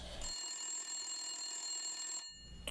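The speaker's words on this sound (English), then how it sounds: "Yes, you better get that phone." An old-style telephone bell rings in one sustained, bright metallic trill lasting about two seconds before cutting off, loud and close in a quiet room.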